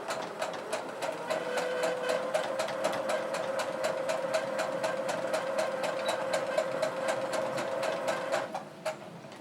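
A sewing machine backstitches a seam on a cross body bag, its needle tapping in a fast, even rhythm close by before slowing to a stop at the end.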